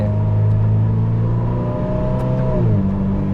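A Ferrari SF90 XX hybrid supercar's engine holds a loud, steady revving drone close to the listener, its tone dropping noticeably near the end as the revs fall.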